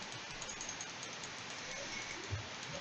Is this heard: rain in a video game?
yes